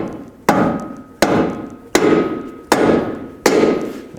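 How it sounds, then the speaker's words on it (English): Five evenly spaced, loud whacks ring out as a rubber mallet taps a control arm into place during CV axle work on a 2012-2020 Ford Focus. Each blow lands sharply and then rings briefly, with no one talking. "grab a rubber mallet and tap the control arm up into place"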